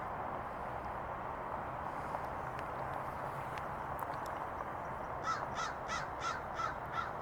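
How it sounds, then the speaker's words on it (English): Crows caw from a neighbourhood near an elementary school's redwoods, where a white-tailed kite is perched. A short run of rhythmic caws comes near the end over steady outdoor background noise. "we have crows in the area and they may take exception to the kite and chase it off"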